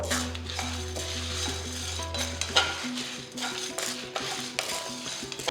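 Small cloves of garlic being stirred and roasted on a low flame for curry leaf idli podi, with a utensil scraping and tapping the pan in steady repeated strokes and a faint sizzle beneath. The sounds are close up.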